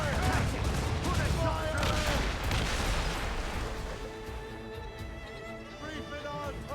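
Ship cannon broadside from an Assassin's Creed: Rogue naval battle: continuous loud rumbling volley of overlapping booms and crackling gunfire, with shouted crew voices over the din throughout.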